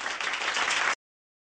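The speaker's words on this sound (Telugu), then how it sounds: "క్లాప్స్." Studio audience at a television game show claps in a steady, dense burst of applause for about a second, loud and close, then stops abruptly into silence.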